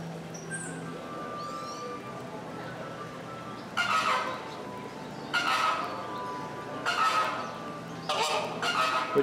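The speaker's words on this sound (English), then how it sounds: "What you hear in the background are the two flamingos" Two flamingos give mating calls as four loud, goose-like honking bursts a couple of seconds apart, heard over a steady outdoor background with faint chirps early on.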